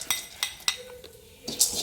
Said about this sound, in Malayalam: ഞാനിതാ അത് വറുത്തുകൊണ്ടിരിക്കുകയാണ്